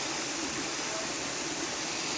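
Steady rushing water from the Acısu stream in Turkey fills the clip, a constant broadband wash like a small cascade flowing nearby, with no breaks or other sounds.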